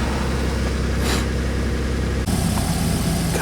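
A car idles steadily after a first cold start of winter, its low, even engine rumble running unbroken, with a brief brighter whoosh partway through and a slight change in tone near the end.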